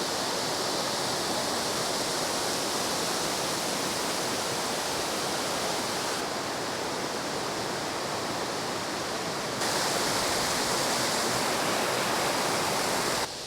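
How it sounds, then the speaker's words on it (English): Tiger's Clough waterfall on the River Douglas near Rivington, a steady full roar of heavy flow over the falls, broadband and continuous throughout, close and loud with no voices. "Now I'm just about approaching the waterfall itself. You might even be able to hear it, and there is plenty flowing over."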